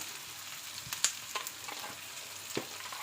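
Garlic frying in a pan, a soft steady sizzle with a few sharp clicks and taps of a utensil against the pan scattered through; close but fairly quiet, no voices.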